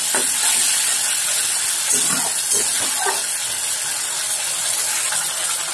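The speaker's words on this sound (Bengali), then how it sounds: "এবার এই মশলাটিকে আমি 2 মিনিট ধরে খুব ভালোভাবে ভেজে নেব" Spice masala fries in a pan for matar paneer, a steady loud sizzle and hiss with occasional stirring scrapes, continuous throughout.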